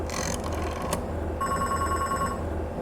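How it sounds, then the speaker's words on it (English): An old-fashioned telephone bell rings loudly in the Beacon Pines video game, a steady trilling ring that stops briefly, then resumes with a bright sustained tone. "Oh no, that's the phone, never mind."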